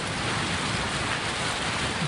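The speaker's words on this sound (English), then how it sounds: "But first, a thunderstorm, because this is the Midwest" Steady, dense rain from a Midwest thunderstorm pouring down with a constant hiss, loud and close, with no distinct thunderclap standing out.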